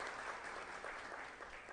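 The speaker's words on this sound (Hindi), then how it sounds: "जोरदार इनका तालियों का" Applause from an audience welcoming a guest at a national event at the Constitution Club of India in Delhi, steady and continuous clapping at moderate distance with no voices.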